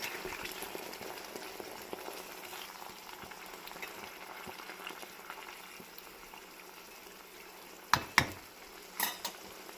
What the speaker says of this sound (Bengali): এই আমি গরম জল ঢেলে দিলাম অল্প করে আর এখানে এই বাটিতে বাটির জলটাও ঢেলে দিই এবার এটা ফুটতে থাক